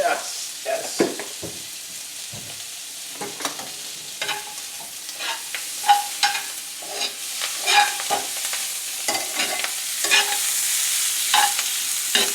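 Kale seasoned with salt and black pepper sizzles in a hot pan as it wilts, with repeated stirring and scraping strokes breaking through the steady fry, close and moderately loud.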